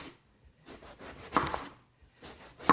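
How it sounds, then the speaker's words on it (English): A knife cuts through skin-on eggplant into thick slices on a board, several soft irregular chops spaced apart, quiet and close. "cut your eggplant into 3/4 inch slices, skin on"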